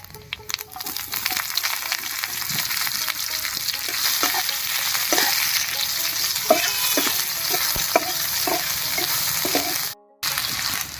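Whole cumin seeds and chopped onion fry in hot mustard oil with a loud, continuous close-up sizzle dotted with small pops and stirring clicks, cutting out for a split second near the end.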